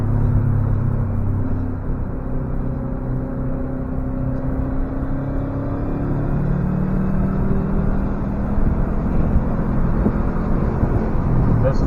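A 2013 Subaru Impreza WRX runs a warm-up lap on a cold race track, its engine droning steadily at a close, constant level with low tonal hum and some rising revs, with no voices over it.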